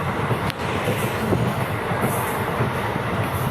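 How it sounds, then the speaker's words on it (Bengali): Inside a moving passenger train, a loud continuous rumble of wheels on track with a broad roaring wash, a brief squeal-like accent early on and no talking. "ট্রেনটা ছেড়ে দিয়েছি তো দেখতে পাচ্ছ ট্রেনে যাচ্ছি"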